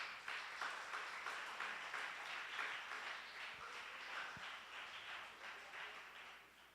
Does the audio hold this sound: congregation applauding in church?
yes